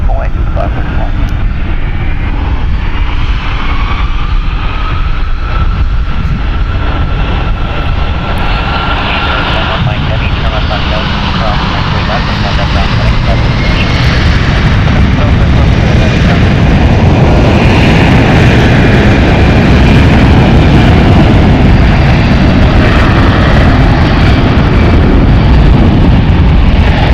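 A 20-year-old Delta Airlines Boeing 757-300 jet at San Francisco International Airport, its engines a loud, sustained roar that builds and rises in pitch, with air traffic radio chatter running underneath.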